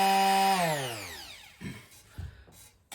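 A bench-mounted orbital sander, over two years old, winds down from a loud whine to a stop, followed by a few scraping and knocking handling sounds nearby.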